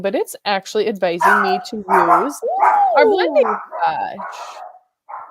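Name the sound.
dog barking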